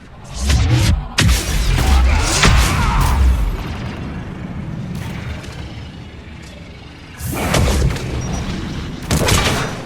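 Gunfire and heavy booming blasts in the video game Mass Effect 3, loud bursts of shots and explosions in two clusters with quieter rumbling between.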